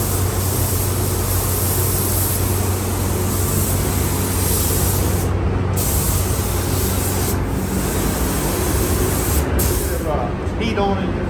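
Steady hiss of a spray gun laying down the first coat of paint on a 1986 Ford F-150 Bullnose pickup during restoration, continuous and close throughout, with brief pauses near the end.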